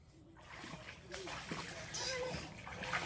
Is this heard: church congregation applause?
no